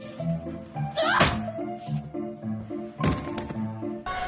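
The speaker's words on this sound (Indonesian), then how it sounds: "Dan Sloan memukul kepala Andrew hingga pingsan." A thriller film scene where a man is struck on the head and knocked unconscious: several dull, heavy thunks land amid the music, with one sharp impact standing out and another following a couple of seconds later.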